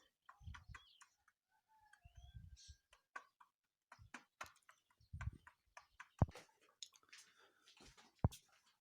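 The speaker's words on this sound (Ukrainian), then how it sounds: "Ось, кури інші гуляють" Chickens cluck and murmur sporadically nearby on a backyard farm, a broody hen feeding among free-roaming hens, mixed with scratching and pecking sounds and occasional sharp taps, in an otherwise quiet setting.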